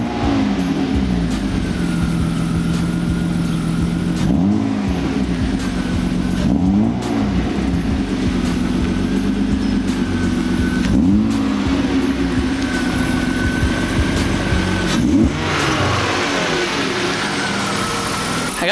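A BMW E36 drift car's engine runs loud and close, revving up and down repeatedly over a steady drone as the car drives, with no talk.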